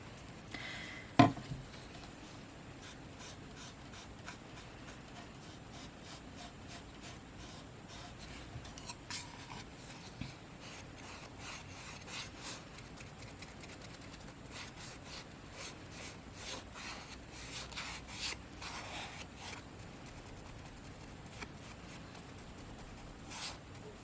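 Soft, steady rubbing and dabbing as a foam paintbrush spreads a thin layer of Mod Podge over a pumpkin for a fall banner craft, with light scrapes and brush strokes running throughout, close and quiet.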